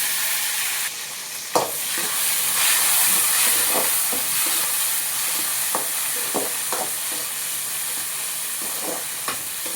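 Curry leaves and tomato sauté in a pan for a rock fish curry, giving a loud, steady hissing sizzle with a sharp knock early on and intermittent spatula scrapes and taps.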